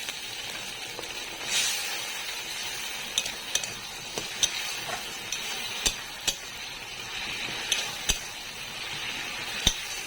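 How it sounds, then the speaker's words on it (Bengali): Water poured into fried, well-cooked spice paste for an egg paneer curry in a village kitchen, giving a broad steady sizzle with scattered sharp clinks of a spoon against the pan, with no talking. "এবার দিয়ে দিচ্ছি পরিমাণ জল।"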